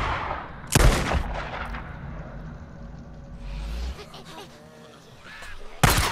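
Pistol shots in the video game Days Gone, PS4: two loud, sharp reports about five seconds apart, each with a short tail, over a low rumbling game ambience.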